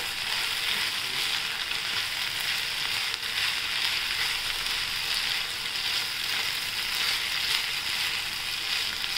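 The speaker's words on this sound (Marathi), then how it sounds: "आपण आता हा भात टाकूया याच्यात, छान परतून घेऊया त्याला" Cooked rice sautéing in a hot pan with corn, green chili, black pepper and vegetables gives a loud, continuous, even sizzle that stays constant throughout, close and without any voices.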